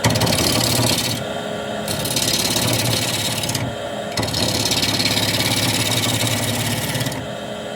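A wood lathe hums as a 5/8 gouge scrapes and rasps against spinning scrap wood in steady passes, briefly pausing twice.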